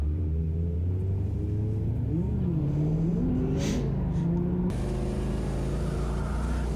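Nissan S14 drift car engine held at full throttle, a loud continuous roar with rising and falling rev tones, a brief high whine midway and a shift in pitch near the end, no voices.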